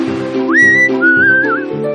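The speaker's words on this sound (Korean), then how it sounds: "그리고 그녀는 휘파람을 불어 그녀의 바다 친구들을 불렀어요." In an animated Little Mermaid story, a mermaid whistles to call her sea friends: two clear, close, rising and wavering whistle phrases over a soft stepping musical background.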